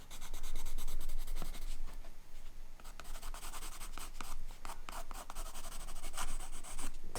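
A tool scrapes and scratches marks into the surface of a mixed media painting to suggest grasses, producing continuous close rubbing and scraping strokes with an uneven rhythm and no voices.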